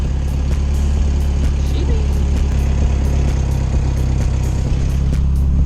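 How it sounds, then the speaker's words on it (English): A twin-turbo car engine idles steadily, a loud continuous low rumble with a faint repeating ticking on top, running alone with no change in pace. "I'm just gonna like literally let it sit here and idle for as long as it can."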